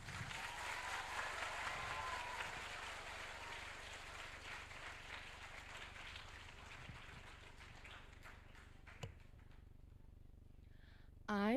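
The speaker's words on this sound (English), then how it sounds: "can we welcome Vinita Jutsi with a huge round of" Applause at the Shillong Book Fair 2023 inauguration welcomes a storyteller to the stage, a sustained wash of clapping from an audience that fades gradually toward the end.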